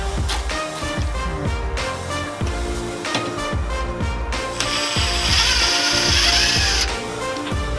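A hand ratchet loosens a bolt on the power steering rack of a Nissan 350Z (Z33), giving repeated close, sharp metallic clicking strokes in a steady rhythm, with no talking.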